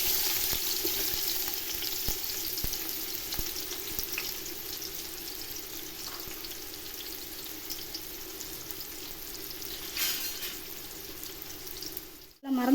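Steady sizzling and crackling of onions frying in hot oil for mutton biryani, continuous and close, with a brief clatter near the end.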